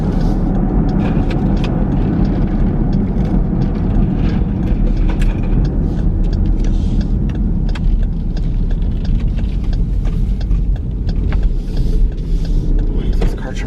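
A car driving at night around 1:30 am, its steady engine and road rumble continuous and fairly loud throughout, with a person talking over it.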